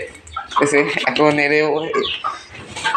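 Chickens squabble in a cage as a broody hen is harassed, with close, loud, overlapping squawks and clucks lasting a few seconds.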